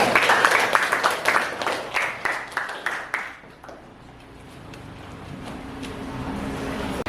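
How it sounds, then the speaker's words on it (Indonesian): A class claps for a student group after their presentation, a few seconds of quick rhythmic clapping that slows and stops, leaving quiet room hum. "Tepuk tangan untuk kelompoknya Ikhlas."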